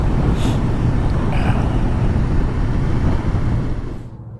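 A motorcycle rides through town on a test run, its engine and road rumble loud and continuous, then fading out at the end.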